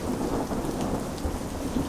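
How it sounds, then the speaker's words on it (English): A Fresno thunderstorm rumbles with low thunder over steady, dense rain pattering on surfaces, loud and continuous with no voices. "Not only is it thundering, it's lightninging."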